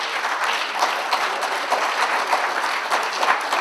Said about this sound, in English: give a little round of applause to Esther Kennedy